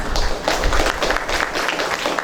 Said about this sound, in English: let us congratulate them by the huge round of applause